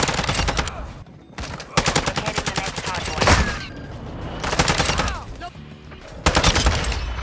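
ISO Hemlock assault rifle fire in Call of Duty MW2 comes as loud, close bursts of rapid shots, four or five separate volleys broken by short pauses, with some game sounds between them.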